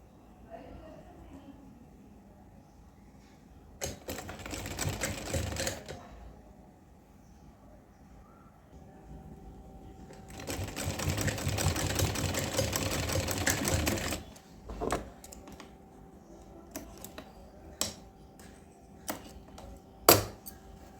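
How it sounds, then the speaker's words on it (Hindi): A sewing machine stitches a Laddu Gopal dress in two sustained runs with quiet handling clicks and taps between and after them. "चलो हम सिलाई लगाते हैं।"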